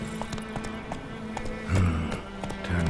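Roach the horse galloping in The Witcher 3, rhythmic clip-clop hoofbeats pounding steadily and close, with a brief heavier burst midway and no talk over them.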